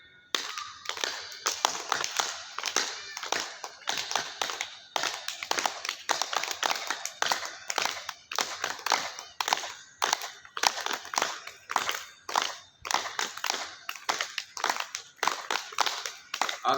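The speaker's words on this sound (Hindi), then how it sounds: "जोर से बजाइए ताली" A group at an outdoor yoga camp claps hands loudly and steadily, a dense rhythmic patter of many palms continuing throughout without pause.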